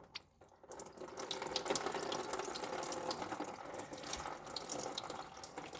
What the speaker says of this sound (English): Let's just let that drain out nice and simple